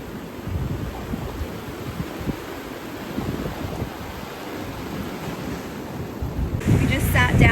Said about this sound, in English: We just sat down for like 15 minutes and it just started pouring rain. Can you hear it?